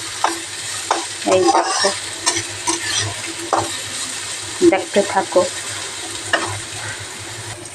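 Leftover rice stir-fried in a pan sizzles continuously while a spatula scrapes and tosses it in irregular bursts, with someone speaking briefly over the cooking.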